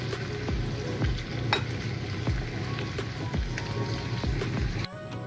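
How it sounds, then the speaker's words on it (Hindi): Cauliflower frying in hot oil in a pan, a dense, steady sizzle with repeated scraping and clinking from stirring, close and continuous. "तो अभी हम गोभी को फ्राई कर लेते हैं अच्छे से।"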